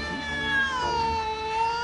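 A cat meows in a long, drawn-out wavering cry with a falling pitch, close and fairly loud, heard indoors in a Turkish comedy scene.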